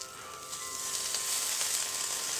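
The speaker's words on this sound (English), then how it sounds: "Gotta love that sizzle." Bacon strips sizzle steadily on a preheated griddle set to low heat, a close, continuous crackling fry that swells slightly after the first moment and holds even to the end.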